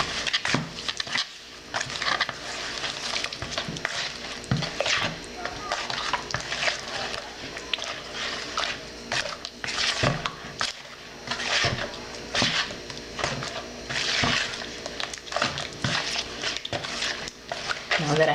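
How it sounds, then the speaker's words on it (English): Canned peaches, sugar and cobbler mixture are stirred in a pot, with steady scraping and clinking of the utensil against the pan running throughout. Someone talks at times over the stirring. "I'm just going to mix this up."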